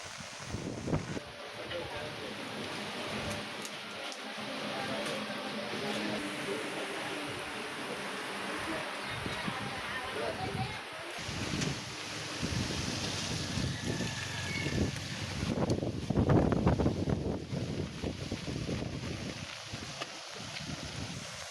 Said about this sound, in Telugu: ఈదురుగాలులతో కూడిన వర్షం బీభత్సం సృష్టించింది